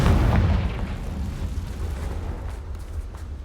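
A fiery blast spell goes off in the Hogwarts Legacy video game, giving a heavy, booming explosion at the start that rumbles and fades into a diffuse low roar, with no talking.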